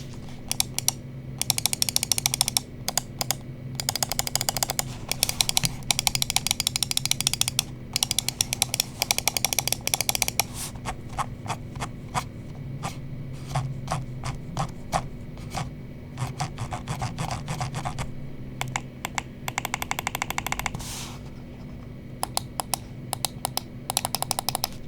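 Asus ROG Harpe Ace Mini gaming mouse buttons clicked in rapid bursts, sharp crisp clicks packed into fast rattling runs with short pauses between, close and clear with no talking.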